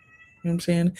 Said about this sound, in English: You might hear some cats meowing.